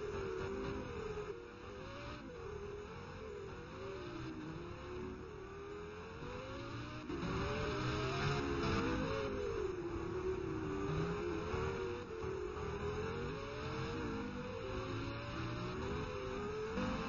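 Race car at the Race of Champions 2012, its engine note rising and falling steadily through gear changes and revs, sustained and fairly close throughout with no pauses.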